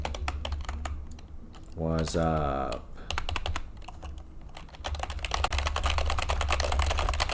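Rapid clicking keystrokes on a computer keyboard rattle continuously while playing a typing game, with a brief spoken line and a short tonal game sound partway through.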